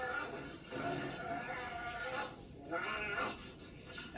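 A cat meowing close by in a long, drawn-out, yowling call that rises and falls over several seconds, loud and alone.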